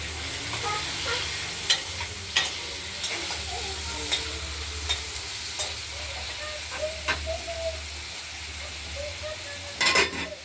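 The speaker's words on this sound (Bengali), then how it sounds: "আলুগুলোকে আমরা একটু ভাজা ভাজা করে নেব" Potatoes fry in oil in a wok, with a steady sizzle under repeated sharp stirring scrapes and clinks, close and fairly loud.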